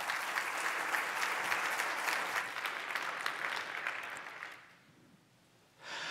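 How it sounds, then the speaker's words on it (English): Audience applause for a conference speaker at a PyCon talk, steady dense clapping from a crowd that fades out toward the end before a short burst returns. "Let's go ahead and give him a round of applause."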